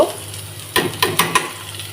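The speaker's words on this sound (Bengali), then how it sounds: "শুকনো মরিচটা কিছুক্ষণ ভাজা হয়ে গেলে এখানে আমি পেঁয়াজ আর রসুনটা দিয়ে দিব" Dried red chillies fry in mustard oil, a close steady sizzle with three or four quick spatula scrapes in the middle of the short stretch.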